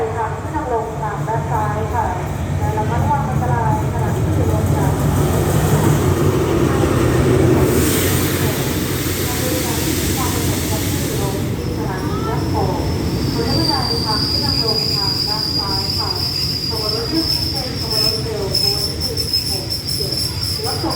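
A rapid train hauled by an Alsthom locomotive pulls into Ban Pong station in Thailand, with loud continuous rumble, clatter and high wheel squeal while a station announcement speaks over the noise.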